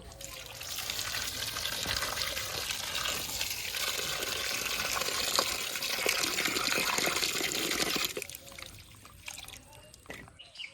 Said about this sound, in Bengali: এবার এঁচড় আর আলুটা ভালো করে ধুয়ে নেব